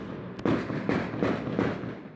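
Rapid bursts of gunfire and fireworks at night in a residential neighbourhood, four sharp cracking blasts in quick succession, loud and close, with no talk.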